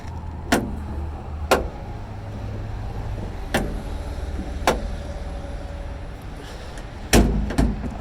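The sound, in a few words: VW Thing car door being tried, stuck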